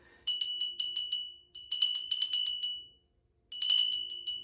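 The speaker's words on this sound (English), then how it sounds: "clear out that energy a little bit with my very special antique bell I love" An antique hand bell rings in three bursts of rapid, bright strikes, each ringing on and decaying, with a short silence before the last burst; close and clear in a quiet room.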